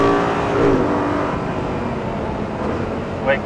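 An Audi R8 GT engine roars and revs as it accelerates on a track, a steady loud drone with rising pitch, heard from inside or close by.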